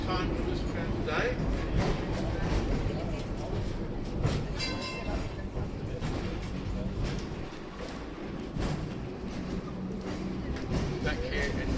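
A 104-year-old historic Christchurch tram pulls away from its stop with a continuous rumbling rail roar and steady clatter of wheels, loud and close throughout, with voices mixed in.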